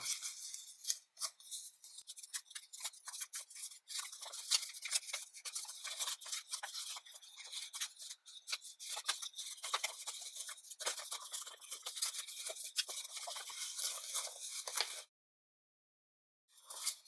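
Origami paper being creased and pressed firmly while folding a gerbera flower, a continuous crisp rubbing and scraping for about fifteen seconds, close up, then sudden silence.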